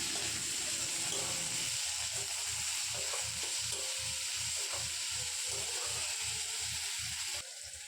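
Tomatoes and onions fry together in a kadai, giving a steady close sizzle with a regular rhythm of stirring strokes running through most of the stretch, and no voices.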